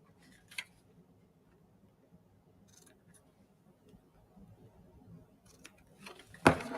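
Scissors trim ribbon beside a small tied bow with a couple of sharp, quiet snips, one near the start and a louder one near the end, with faint handling noise between.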